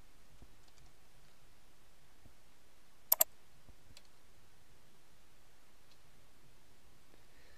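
A computer mouse gives a quick double click, close and crisp, standing out against an otherwise quiet room with only a few faint ticks around it.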